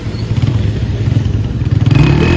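A motorcycle engine, kick-started and then revved, runs loud and close with a pulsing, uneven throttle rhythm and some mechanical clatter.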